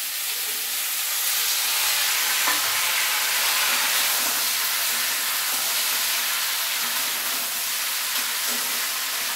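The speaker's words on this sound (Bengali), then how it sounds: "এবার আমি এই সবজিগুলো সব তেলের মধ্যে দিয়ে দেবো।" Vegetables frying in hot oil over a low gas flame give a steady, loud broadband sizzle and hiss that holds throughout, with faint stirring knocks and no talk.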